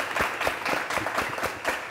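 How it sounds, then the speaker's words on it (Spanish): A small studio team claps in a brief, uneven round of applause on a Cuban radio and television program, with sharp individual claps at a near distance. "Es más, un aplauso de todo el equipo, por favor."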